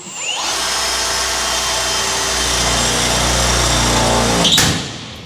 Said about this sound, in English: just drill down here so it's coming down at us nicely